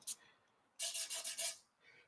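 Sandpaper rubbed across an aluminum tank during rough-in sanding, a few short raspy strokes in quick succession after a brief opening scrape, close and fairly loud.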